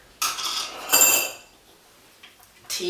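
A metal spoon scooping loose rooibos tea into a tea strainer in a kitchen, giving a couple of short scraping, clinking strokes separated by quiet gaps.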